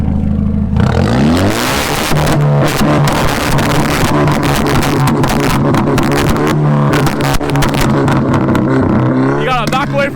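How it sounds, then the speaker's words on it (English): Car engine revving hard and loud in a snowy lot during a drifting session with a BMW 335is, Hyundai Genesis Coupe and Infiniti G37, repeated throttle blips over a steady drone, with people talking nearby. "Yo, give me a rev."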